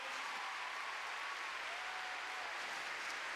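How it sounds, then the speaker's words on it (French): Spectators at an international show-jumping pony derby in Bordeaux give steady, moderately distant applause, an even patter of clapping throughout with no voices over it. "Et vous applaudissez"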